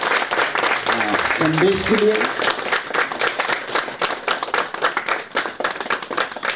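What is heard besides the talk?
church audience clapping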